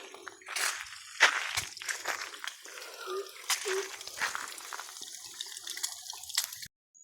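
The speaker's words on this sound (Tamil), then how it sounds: "தண்ணி போயிட்டு இருக்குது பார்த்தீங்களா, பைப்பு வரைஞ்சி." Water runs along a pipe through woodland, a steady close splashing rush with brief gurgling surges, heard on its own for several seconds before it cuts off.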